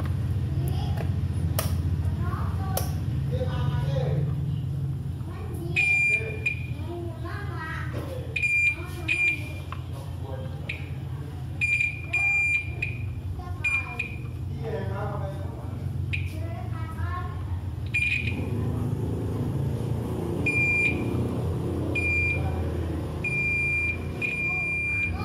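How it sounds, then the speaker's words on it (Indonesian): A multimeter's continuity buzzer gives repeated short, high beeps while components are probed on a faulty Acer 4738 laptop board, with a person talking throughout. "Kita coba buzzer satu-satu."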